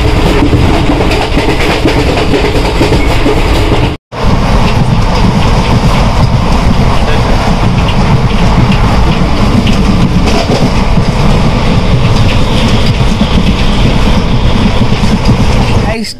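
The Chamrajnagar Express runs on the tracks near Puthalapattu, a loud, continuous roar of rolling wheels and rattling carriages with a clickety-clack rhythm, broken only by a brief dropout, with voices faintly mixed in.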